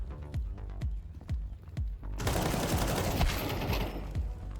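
Gunfire in a Counter-Strike style shooter game: a series of sharp, evenly spaced shots, then a dense, loud burst of rapid fire with no talking.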